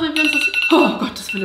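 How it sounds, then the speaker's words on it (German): A camera's alarm goes off in a room, an electronic repeating ringing tone that keeps sounding under German speech and an exclamation of surprise. "Das war der Wecker für die Kamera"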